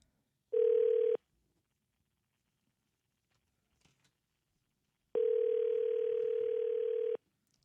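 A landline telephone dial tone sounds twice: a short steady burst, then a quiet pause with faint clicks, then a longer sustained tone, clear and close.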